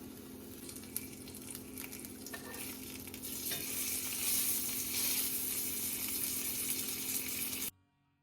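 Slices of homemade buckboard bacon cured from a pork butt roast frying in a pan on medium heat, a close steady sizzle that swells louder midway, then cuts off abruptly near the end.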